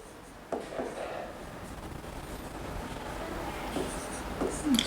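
Marker or chalk writing on a classroom board during a chemistry lecture, a faint, steady scratching with a few sharp taps and strokes, close by in a quiet room.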